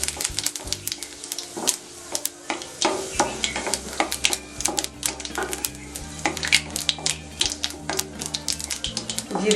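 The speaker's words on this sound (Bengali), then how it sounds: "তেলটা গরম হয়েছে, ফোড়নে দিচ্ছি সাদা জিরে সামান্য" White cumin seeds crackle and sizzle in hot mustard oil, a dense run of sharp pops and ticks close by over a steady frying hiss, with faint clatter of a utensil.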